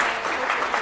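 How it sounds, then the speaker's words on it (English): Brief burst of applause from a meetup audience at a ReactJS Singapore tech talk, steady dense clapping at moderate level without pause, heard alone. "I want to have a round of applause for her."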